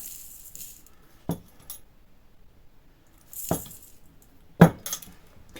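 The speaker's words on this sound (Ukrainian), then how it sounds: "необхідно додати одну чайну ложку з горкою цукру" A teaspoon adding sugar clinks sharply against a jar three times, with soft scraping and rattling between the taps in an otherwise quiet room.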